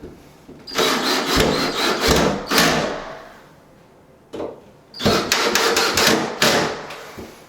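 A power driver sinks 2.5 inch drywall screws into a wooden stud for a recessed cabinet, giving two long bursts of loud whirring and grinding broken by a short quiet gap and a brief blip.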